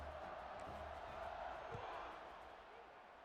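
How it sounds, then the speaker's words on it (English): A college football video game stadium crowd buzzes in a broad, steady roar after a score, the murmur fading slightly toward the end while a commentator talks over it. "this crowd is buzzing after that last score"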